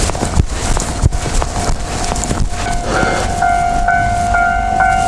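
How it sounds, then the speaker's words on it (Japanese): A railroad level crossing at night sounds its warning signal with a steady, repetitive pulse, and sustained ringing tones join in partway through over outdoor background noise. "夜の踏切って感じ。"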